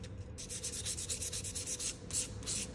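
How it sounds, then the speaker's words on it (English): Hand sanding of a chalk paint texture finish on furniture, heard as rapid back-and-forth rasping strokes in an even rhythm, close and fairly quiet, with no voices. "It's sanding smooth very, very easily."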